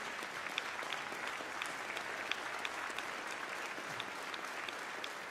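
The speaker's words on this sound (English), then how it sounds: "please give her another round of applause for Leon" An audience applauds at a memorial service in Chesterfield, Virginia, with steady, dense clapping that holds at an even, moderate level throughout and has no voices over it.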